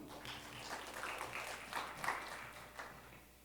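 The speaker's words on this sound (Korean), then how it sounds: "우리 하나님께 영광의 박수 올리겠습니다." A church youth congregation at a worship service gives a soft, distant round of applause, a faint wash of hand claps that swells slightly and then fades.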